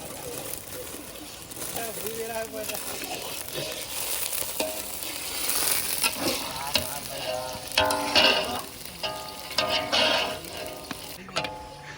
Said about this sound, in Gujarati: ફુલેવર સિત્તેર ટકા ફ્રાય થઈ ગયો છે હવે આપણે કૂબી નાખશું એમાં